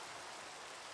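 Rainfall in Minecraft survival gameplay, an even, hissing wash of rain that is quiet and constant, with no talking.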